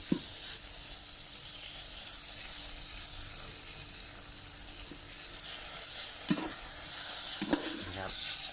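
Ingredients for a Japanese-style Yamamori black-soup shabu are stirred in a hot pot, giving a steady sizzle and hiss with a few sharper scrapes and clinks near the end, and no talking.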